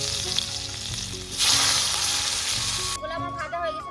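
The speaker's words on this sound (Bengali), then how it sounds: "এইবারে আমি আলুগুলা ভেজে নেব।" Potato pieces frying in hot oil for a vegetable biryani, a strong continuous sizzle that swells as they hit the pan, then cuts to softer bubbling near the end, with a voice briefly in the background.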